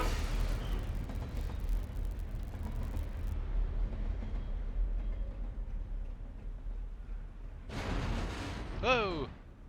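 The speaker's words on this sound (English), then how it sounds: "Oh, it's a train." A train rumbles past in Alan Wake on Xbox, a deep sustained roar that fades, followed by a sharp screeching, whistling burst near the end; no talk heard.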